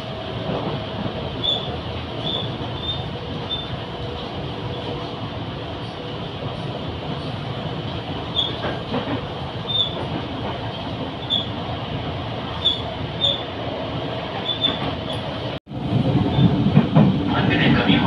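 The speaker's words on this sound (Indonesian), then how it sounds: "kereta akan tiba di stasiun transit stasiun Kampung Bandan" A KRL commuter train rumbles steadily along the tracks with a faint high tone and clatter, arriving at Kampung Bandan station, then a sudden break and louder rolling noise near the end.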